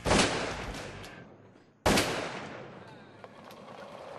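Two loud shotgun blasts at a sporting clays competition, each a sharp crack with a long echoing decay, the second about two seconds after the first, heard outdoors with no talk.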